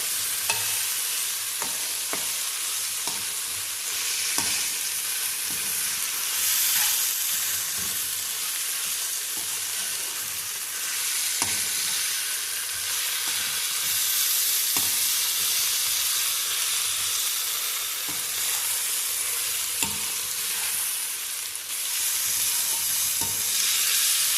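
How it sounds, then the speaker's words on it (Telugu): Sizzling steadily in an open pan on a medium flame while cooking chicken rice, a loud close hiss with scattered scraping and stirring knocks throughout. "స్టవ్ని మీడియం ఫ్లేమ్లో పెట్టుకుని మూత పెట్టకుండా వేయించాను"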